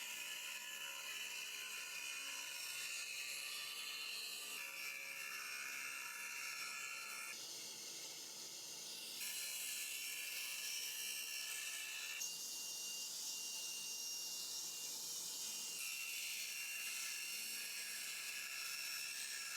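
A saw cuts solid wood for guitar sides with a steady high whine and whir that shifts pitch in several steps as the blade works through the board, loud and close with no talk.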